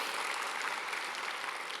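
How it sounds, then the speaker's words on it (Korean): Dense, steady applause from a church congregation at a Friday evening worship service, continuous broadband clapping with no gaps, fairly close and even in loudness throughout. "하나님께 모든 영광의 박수를 올려드립시다."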